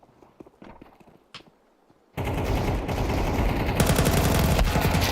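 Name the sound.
gunshots in the video game Counter-Strike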